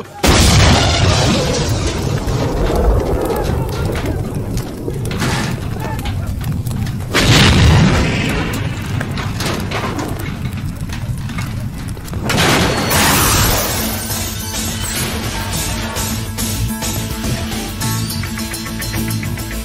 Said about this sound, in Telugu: అక్కడ నీ కార్లో ఎవరు బాంబు పెట్టారని చెప్తే తెలిసి మిమ్మల్ని కాపాడడానికి వచ్చానన్నా